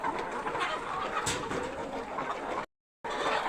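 Healthy backyard chickens cluck softly and continuously as they gather at a feeding bowl, with a brief silent gap near the end.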